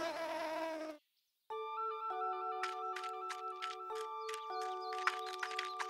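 A cartoon bee gives a short, reedy buzz lasting about a second. After a brief silence, bright, tinkly children's music with light percussion takes over.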